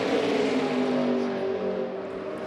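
Race cars in the Lucas Oil 200 roar past in a pack, their engines a loud, continuous, buzzing drone that fades slightly toward the end.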